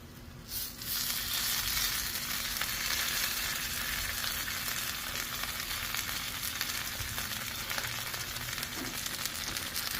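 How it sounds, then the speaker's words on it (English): Flautas stuffed with leftover fajitas fry seam side down on a Blackstone griddle, giving a constant, dense hiss of sizzling oil with occasional faint crackles and no talking. "for a flauta, just like a taquito, we're gonna fry these up."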